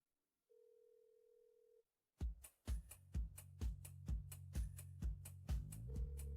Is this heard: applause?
no